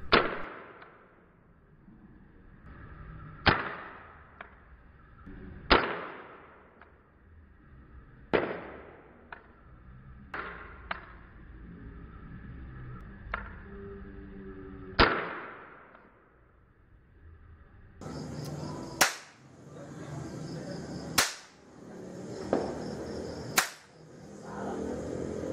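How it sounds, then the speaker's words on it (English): Toy cap gun firing weaker caps in slow motion during Chinese New Year: about a dozen slowed pops, each a sharp crack with a long fading tail, spaced irregularly, the last few brighter and harsher, with no talking. "This is the cap gun firing in slow motion. This is the weaker ammunition."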